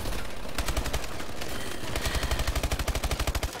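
Rapid automatic gunfire in Call of Duty: Advanced Warfare multiplayer, close, loud bursts of fast regular shots, ending in a long sustained stream with no talk.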